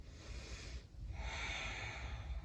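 Audible nasal breathing during a vinyasa yoga flow: a long close exhale, a short pause, then a deep hissing inhale, alone and soft.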